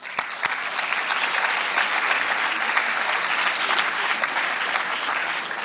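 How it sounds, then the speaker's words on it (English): An audience of business school students at a national seminar breaks into dense, steady applause. It stays loud for several seconds, then tapers slightly at the end, with no voices. "So I think a round of applause for each one of you."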